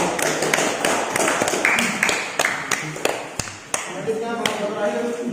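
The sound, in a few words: classroom applause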